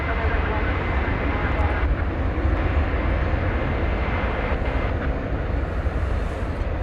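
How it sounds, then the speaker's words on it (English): An American Airlines Boeing 737 MAX 8 arriving at Dallas Fort Worth airport at night roars as a loud, steady broadband jet rush that fills the whole stretch, with faint voices partly beneath it. "We got a MAX 8 coming in from McAllen, Texas"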